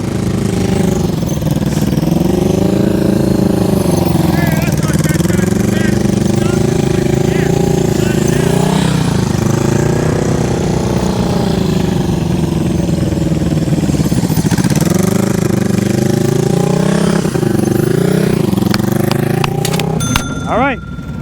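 A motorcycle engine during slow speed riding practice, a loud, close, rumbling drone whose pitch rises and dips as the throttle is worked, running continuously under a voice speaking.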